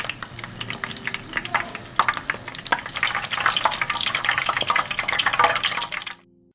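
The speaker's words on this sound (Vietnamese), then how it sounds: "Mình chiên lần lượt cho đến hết nha." Shrimp wrapped in sandwich bread frying in hot oil, a steady crackling sizzle with scattered sharp pops that builds slightly, then cuts off abruptly near the end.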